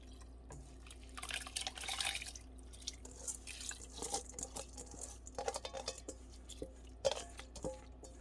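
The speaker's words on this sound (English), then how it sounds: "So let's add the rice." Washed parboiled rice for beef cook-up rice goes into a cooking pot, giving a quiet scatter of soft pattering, wet splashes and drips over several seconds, close and faint with no talk.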